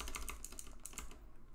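Rapid keystrokes on a computer keyboard while entering Discord bot code in discord.js, a close, steady clatter of irregular clicks with no voices.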